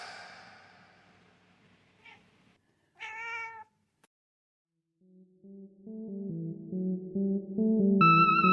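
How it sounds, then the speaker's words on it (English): A cat gives a couple of short, close meows, followed by a quiet pause and then a rising run of electronic musical tones. "In space, no one can hear you meow unless you're Space Cat"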